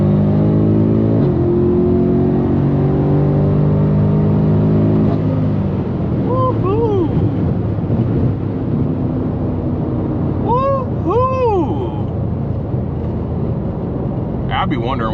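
A car gets floored in city driving, its engine winding up through a long rising rev, then shifting and pulling again with repeated surging whines. Heard from inside the cabin, with some talking over the engine.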